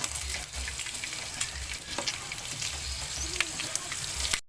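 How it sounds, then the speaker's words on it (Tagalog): Ginger sizzles and is stirred in a pan as the first aromatic for Bicol express, a steady frying hiss with occasional soft scrapes, fairly quiet and close. "dito na tayo maglalagay ng mga panggisa"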